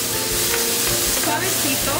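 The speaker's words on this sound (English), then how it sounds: "we're gonna saute this until tender" Vegetables sauté in a small amount of olive oil for a vegan Mexican corn soup, a loud, close, continuous sizzle with stirring scrapes running throughout and no voices.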